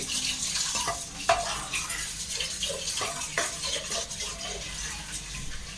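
Chicken curry being stirred in a pot, with a steady wet simmering hiss and scattered scraping spoon knocks against the metal over about six seconds, close and moderately loud, with no talking.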